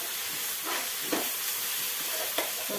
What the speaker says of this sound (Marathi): परत असं व्यवस्थित परतून घ्यायचं